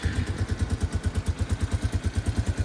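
A 300cc ATV engine idles close by, its exhaust thumping in a fast, even pulse with some mechanical clatter. There is no talk.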